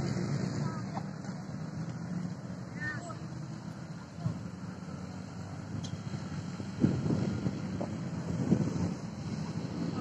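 Wind rumbling and buffeting against the microphone outdoors, steady and blustery, with faint distant voices and a few thumps in the background.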